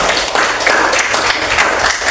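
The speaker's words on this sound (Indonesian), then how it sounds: "Beri tepukan yang meriah untuk kelompok nanti" A classroom audience claps in a dense, steady burst of applause for a student group, close and loud throughout.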